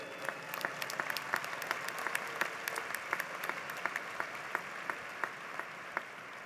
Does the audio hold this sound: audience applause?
yes